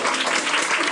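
A KTV room crowd claps briskly, a short burst of applause close by and fairly loud from start to finish.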